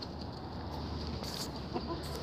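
A new hen clucks softly at close range, a few short low calls over steady farmyard background noise, with no talking.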